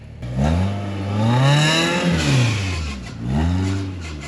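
A rock crawler's engine revs in long rising and falling surges, bogging down under load before picking up again, loud and close with no voices over it.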